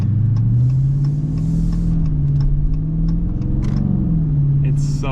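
A Dodge Challenger R/T with the 5.7 engine accelerates on a street, its exhaust baffle opening; a steady low engine drone rises and falls in pitch, loud and close, with some faint ticking overhead.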